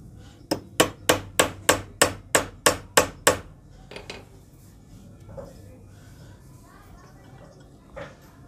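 Nine light, evenly spaced hammer taps on screws being fitted into a sewing machine stand table, close and crisp, followed by a few faint handling knocks with soft background noise.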